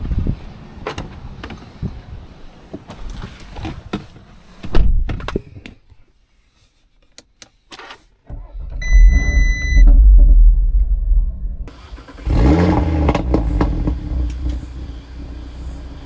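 An Audi RS3 with a stage 1 tune and a complicated emissions exhaust: a series of thunks like its door shutting, a brief quiet, then the engine starting with a deep rumbling roar that swells in revs, dips, and surges again, loud and close.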